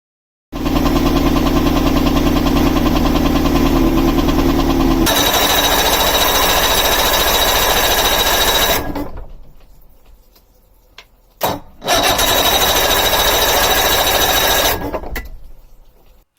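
A large outboard-style engine on a Caracruiser boat runs loud and steady after carburetor float, ignition coil and spark plug repairs, cutting out briefly and then restarting before fading at the end.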